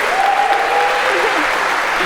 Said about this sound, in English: a huge round of applause for Yulia